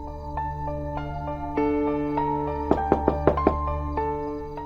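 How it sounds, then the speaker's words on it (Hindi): Someone knocks on a door several times in a quick cluster, the raps sitting under a steady backdrop of sustained dramatic music tones. "इतनी देर से खटखटा रहे हैं"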